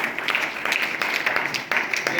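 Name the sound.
congregation clapping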